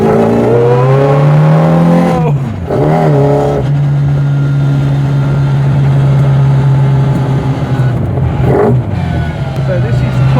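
Engine of a Proton car driving down the Shelsley Walsh hill climb course at a relaxed pace, a steady loud drone with gear changes and shifting pitch, voices talking over it.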